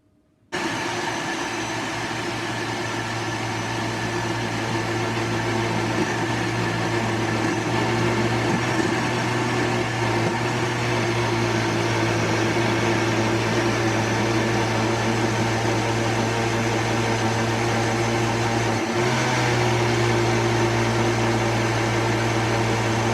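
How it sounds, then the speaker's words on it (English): An electric blender grinds soaked beans for moi moi, its motor giving a loud, steady, whining drone that runs without a break for the whole stretch and drops slightly in pitch near the end, with no talking. "I'm going to start blending the beans"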